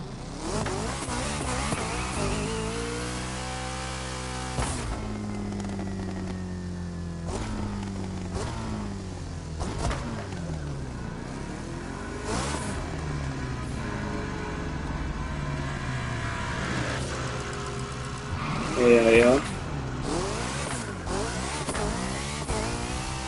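A Chevrolet Corvette C8 Z06 in the racing game The Crew Motorfest revs and accelerates through repeated gear shifts, its engine note rising and falling loudly and continuously, with a brief tire squeal near the end.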